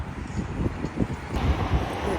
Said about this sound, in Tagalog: Kahit na may araw pero mahangin